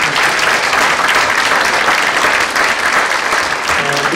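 Loud, sustained audience applause at a youth talk concert with party officials present, a dense continuous roar of many hands clapping close by for the whole stretch.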